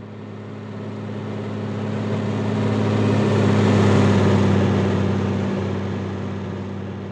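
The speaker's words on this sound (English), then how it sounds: "let's bring up our Doppler, which the car engine sound is routed to" A car engine run through a Nuendo Doppler plug-in hums steadily, swelling louder toward the middle as if passing close by, then fading away again, with no voices over it.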